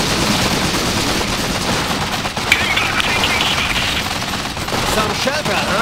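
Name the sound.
gunfire in the video game Iron Harvest 1920+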